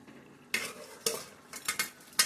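Fried bhola fish pieces being stirred into a simmering curry in a pan, a few separate scraping clatters of utensil against the pan with a faint sizzle underneath.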